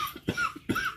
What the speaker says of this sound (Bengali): দেখো তো কিরকম করে কাশতেছে, পুরো জাম হয়ে গেছে বলো, খুসখুস করতেছে বলো।